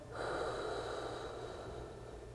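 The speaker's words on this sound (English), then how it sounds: "I go back. Exhale." A single long exhale during a back exercise rushes out as a steady, breathy hiss, close to the microphone and unaccompanied, lasting about two seconds.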